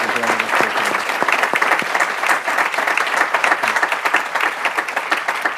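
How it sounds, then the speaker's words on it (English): Audience applause at a district education panel event on integrated student supports, a steady roar of clapping filling the room for several seconds, fairly loud and continuous without speech. "please, a round of applause for them for joining us here today."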